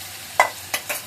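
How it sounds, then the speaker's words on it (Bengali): Fish dropped into hot oil with a bay leaf in a wok, giving three quick sizzling bursts close by, the first loudest, over a quiet background. "কড়াইতে তেল দিয়ে দিছি, দিয়ে দিলাম একটু তেজপাতা, তারপরে এই যে মাছগুলো সব দিয়ে দিলাম।"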